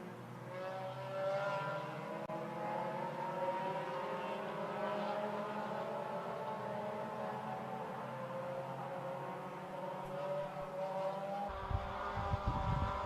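Mazda MX-5 race cars in the 2021 BRSCC SuperCup head down the back straight at Anglesey circuit, their engines a faint, steady, distant drone that holds throughout.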